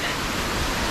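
Waterfall in a flooded forest on Mount Roraima, a steady, loud, broadband rush of falling water filling the whole moment without a break.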